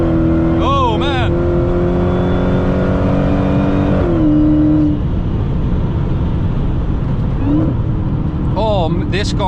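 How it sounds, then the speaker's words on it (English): A loud, aggressive 888-horsepower Dodge Hellcat widebody engine revs hard at full throttle, pitch climbing and dropping through quick gear shifts, close and continuous. "this car is so freaking fast, so loud, so aggressive"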